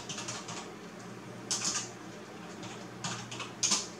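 Keys clatter on a computer keyboard as a command is typed at a Windows 10 command prompt, coming in short quiet bursts of quick taps with pauses between, close and alone.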